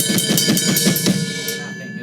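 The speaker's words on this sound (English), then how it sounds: "The very important thing is the volume of the snare, because if you play it too low" A fast drum blast beat with the snare played too softly, so the snare barely cuts through. Rapid, busy cymbal and kick hits form a dense, continuous wash that thins out toward the end, with no talking.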